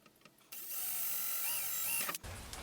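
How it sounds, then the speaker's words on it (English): A small drill bores a pilot hole for rivet nuts during a van build: one high, steady whine of about two seconds with a wavering pitch that cuts off sharply, set between quiet handling noises. "we're going to start with the pilot hole, so that with a small drill, make sure that the rib nuts are going to be exactly where we need them"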